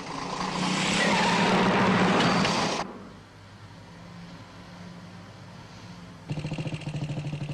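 A British motorcycle of the 1960s tears past at speed on a road by a factory, a loud close roar for about three seconds that drops away to a distant rumble before another engine note cuts in.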